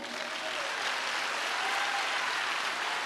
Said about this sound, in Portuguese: Por isso, pode aplaudir.